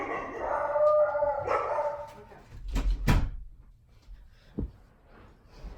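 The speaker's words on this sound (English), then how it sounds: "That's my beagle and my dog barking in the background" A beagle and another dog barking and howling in the background of a room, a few drawn-out howls early on, then scattered sharper yips and barks, moderately loud and with no talk over them.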